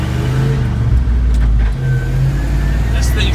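A forestry elevator chipper dump truck with an 8.1-liter gas engine drives along, its engine droning loudly with a shift in pitch midway, a voice speaking over it.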